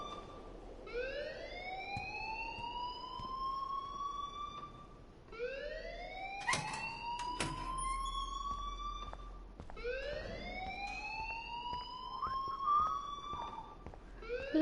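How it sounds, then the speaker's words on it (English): A school alarm blares in Life is Strange, a loud rising siren-like wail repeating in three long sweeping cycles, steady and continuous with no talk over it. "please turn off that alarm since that's your job"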